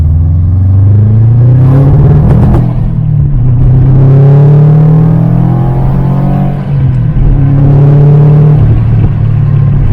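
A Subaru STI with a manual gearbox accelerating hard on turbo boost, a loud, close, sustained engine drone that climbs steadily in pitch as it pulls through the revs.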